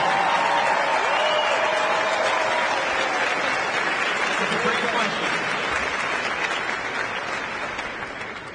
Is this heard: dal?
no